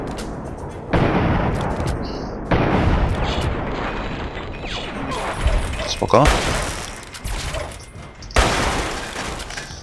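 Gunfire in Fallout 3 during a prisoner-rescue mission: several loud, sharp shots and booming impacts spaced across the stretch, with someone talking between and over them.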